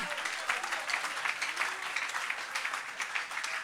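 A church congregation applauds together at a service, a steady wash of many hands clapping that fills the whole stretch without a break.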